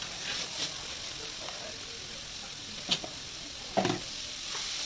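Chopped ash gourd dropped into hot, sizzling spice masala in a pan, with a steady frying hiss and a few scraping stirs and thuds as the pieces go in.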